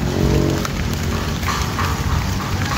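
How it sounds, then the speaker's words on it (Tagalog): Steady rain falling and pattering on surfaces, a dense continuous hiss with drops, loud and close, no voices. "Ayan, umuulan na naman."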